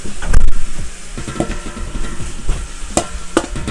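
Masala for moong dal khichdi stirred in a pot, with repeated scraping and clanking strokes of a spoon against metal over a soft sizzle, close and fairly loud, without talk.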